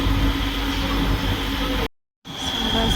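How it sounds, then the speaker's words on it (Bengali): A departing train rumbles steadily with a low, continuous rolling roar and faint wheel whine, loud and close, briefly cutting to silence before resuming. "ট্রেন ছেড়ে দিয়েছে"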